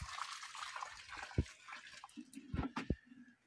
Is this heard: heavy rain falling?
no